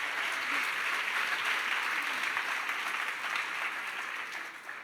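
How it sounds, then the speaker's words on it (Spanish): A church congregation claps in steady applause, a continuous wash of hand claps at moderate distance that softens slightly toward the end, with no speech over it. "le damos un fuerte aplauso al Señor"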